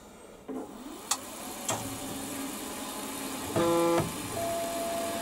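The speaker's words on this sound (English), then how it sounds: "Start the cutter up." A small milling machine starts a carbide cutter, with a few sharp clicks and knocks followed by a rising motor whine and a steady tonal hum that swells briefly as the feed engages.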